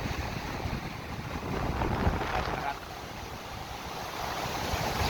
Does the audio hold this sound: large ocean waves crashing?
yes